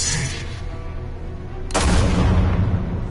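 Gunshot from a revolver in the Batman Telltale video game, a sudden loud blast partway through followed by a booming, reverberant tail, after a quieter stretch of tense ambience.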